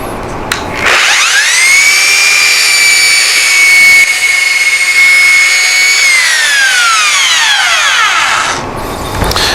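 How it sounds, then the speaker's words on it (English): A belt sander runs steadily while smoothing tapered wooden table legs, spinning up at the start and winding down near the end, its loud whine close and continuous with no talk over it. "we're just going to take the belt sander and sand these smooth"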